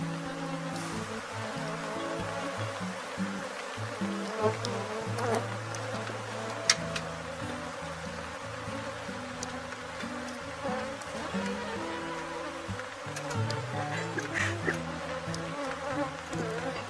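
Honeybees buzz around hive boxes while a colony is split into a new swarm, a dense and continuous drone of many wings with individual bees passing close by, steady throughout with no voices.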